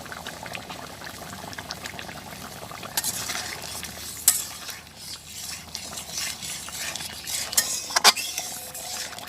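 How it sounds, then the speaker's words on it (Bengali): Close, steady stirring of ground pepper and cinnamon paste into a bubbling egg curry in a pot, with a simmering hiss, occasional spoon clinks against the vessel and no talk. "আমি এখন গোলমরিচ আর হলো দারুচিনি বাটা এটা দিয়ে মিশিয়ে নেব"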